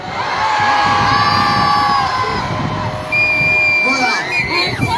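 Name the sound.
festival audience shouting loudly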